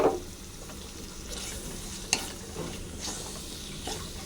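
Soaked mung dal is stirred into a spice paste with tomato, giving a soft, quiet sizzle with scraping stirs and one sharp clink of the utensil.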